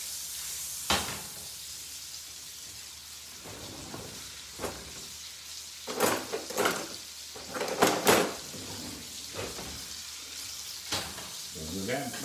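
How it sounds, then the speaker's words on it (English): Salmon frying in a pan with Cajun seasoning makes a soft, steady sizzle, broken by sharp bursts of spattering and scattered clinks of utensils against the pan. "So get that salmon, continue to cook it."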